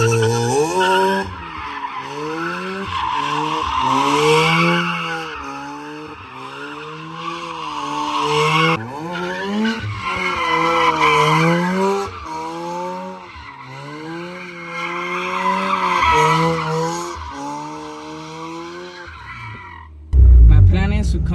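A Mazda RX-8 engine revs and wails while tires squeal through long drifting slides, loud and close, ending in a sudden burst of wind noise.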